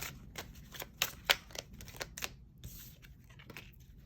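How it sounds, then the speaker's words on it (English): Tarot cards riffled and flicked in short crisp bursts, a few sharper snaps standing out, close by with no talking. "Sorry, the card shuffling is taking forever."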